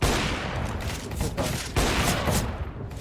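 Rapid AK rifle fire in a video game, a dense, loud, continuous fusillade of overlapping shots with brief dips, filling the whole span with no talking.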